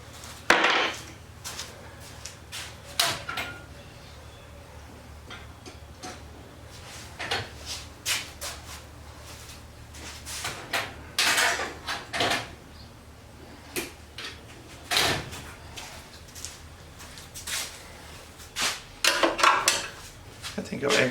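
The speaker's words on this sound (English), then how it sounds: "I want to try and pop that spring off, which I guess I'm going to need just a screwdriver to give me a helping hand with that." Sharp metallic clicks, taps and scrapes from a screwdriver prying at a spring on the pulley of a Troy-Bilt snow blower come close up at an uneven rhythm over a quiet background, with a little talk between them.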